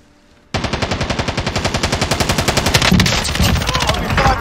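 Loud, rapid unsilenced automatic gunfire from Call of Duty Modern Warfare bursts in abruptly and hammers on in a fast, even stream of close shots for several seconds.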